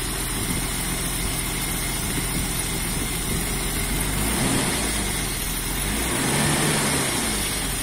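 A BMW E34 with an M50 engine running on LPG idles steadily and loudly at close range, a continuous mid-pitched hum with a slight rise in revs partway through.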